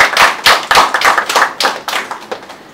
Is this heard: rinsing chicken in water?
no